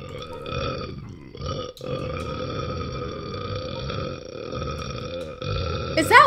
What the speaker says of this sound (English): Is that one long burp?